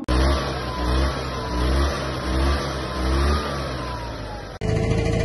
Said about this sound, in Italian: Scaldate i motori.